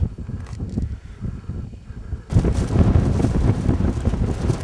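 Wind buffets the microphone in gusts at 4,200 metres on a winter climb of Mount Ağrı, turning into a loud, continuous roaring rush halfway through.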